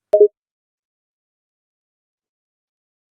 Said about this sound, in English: Then hang up if you don't want me on the phone, El Mao.